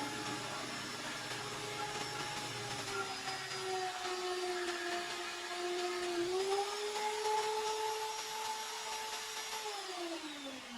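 A drill bit bores a hole through metal, lubricated with windshield washer fluid, producing a steady close whine whose pitch drifts and steps as it cuts, continuous throughout with no voices.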